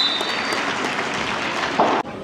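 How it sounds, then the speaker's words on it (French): At a petanque national competition in Sète, a crowd claps steadily for the players. The applause is dense and continuous, a brief whistle-like tone sounds near the end, and the sound then cuts off abruptly. "On peut les applaudir s'il vous plaît."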